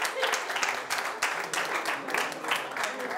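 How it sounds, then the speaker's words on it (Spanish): A conference audience applauds a group's birdhouse entry in a creativity exercise, a lively burst of many hands clapping in a hall, steady and fairly close. "Aplausos para el primero de los de la casita de pájaros."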